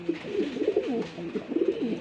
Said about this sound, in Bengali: বন্ধুরা এখানে একটা ম্যাকপাই পুডার কবুতর আছে দেখেন